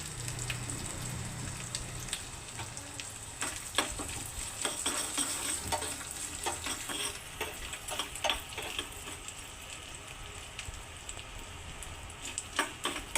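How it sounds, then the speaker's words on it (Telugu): Small pieces of coconut frying in ghee in a pan, a soft steady sizzle with scattered crackles and light utensil taps throughout. "చిన్న కొబ్బరి మొక్క చిన్న చిన్న ముక్కలు కానీ కట్ చేసి వేయించుకుంటున్నానండి దూరగా వేయించుకుంటున్నానండి"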